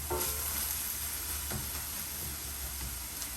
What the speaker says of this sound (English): The shallots are cooking down.